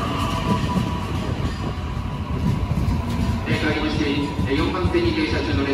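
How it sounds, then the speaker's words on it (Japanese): A train stands at platform 4 of JR Chiba Station, with rumbling rail noise, clattering wheels and occasional squeals nearby, while a station announcement plays over it. "4番線停車中の列車は車庫に入る回送列車です。"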